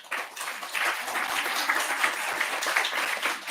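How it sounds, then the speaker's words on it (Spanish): Dense applause from an audience at a book presentation, steady clapping filling the whole stretch with no pauses. "en principio quería pedir un aplauso para Luciano, mi primo,"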